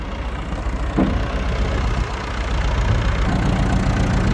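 A tractor engine idles with a steady, loud low-frequency rumble and chugging, continuous throughout with no voices over it.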